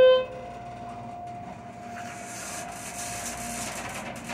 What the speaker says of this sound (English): This is a very creaky elevator.